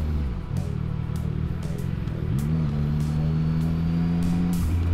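A motorcycle engine on a night ride at a high, sustained drone, holding steady and then rising in pitch as the revs climb and level off, loud and close with wind rush over it.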